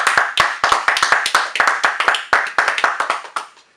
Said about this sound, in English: Let's go ahead and clap it up, people.